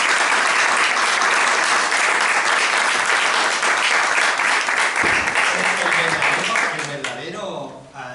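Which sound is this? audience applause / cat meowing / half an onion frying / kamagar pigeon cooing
audience applause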